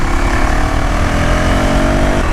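A 2026 KTM Duke 390R motorcycle being ridden on a street, giving a loud, steady close-up engine drone mixed with wind rush for a couple of seconds.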